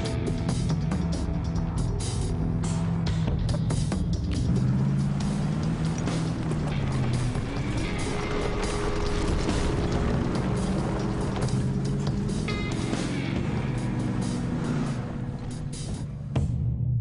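A Ford F-150 EcoBoost pickup drags over three tons of logs up a 10% grade, its engine droning loud and steady with rattling, clanking mechanical strain throughout.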